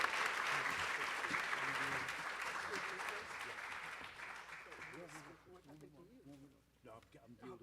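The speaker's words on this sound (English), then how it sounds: "Give them a round of applause." An audience at a memorial tribute applauds the speakers, a full burst of clapping that gradually fades, with voices talking underneath and then continuing alone once the clapping dies away.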